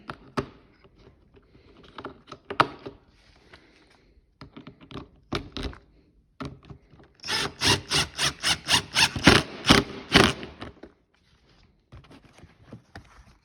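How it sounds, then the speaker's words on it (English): A bolt going back in during a glovebox install on a 2021 Ski-doo 850 Turbo snowmobile makes scattered close clicks and taps, then a quick burst of about a dozen sharp ratcheting clacks, then quiet handling noise. "now we're going to put this bolt back in"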